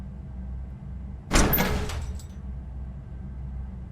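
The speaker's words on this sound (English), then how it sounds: "I'm gonna open the door!" A door opens in Robocop: Rogue City, one short, sharp mechanical clunk and slide rising out of a low steady hum, then fading back into the background drone.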